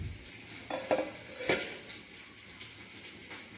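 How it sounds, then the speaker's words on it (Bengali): Rohu fish pieces frying crisp in a kadai: a soft, steady sizzle with a few distinct stirring or turning knocks, close by and without talking. "আমাদের মাছগুলো বেশ ভালোভাবে ভাজা হয়ে গেছে"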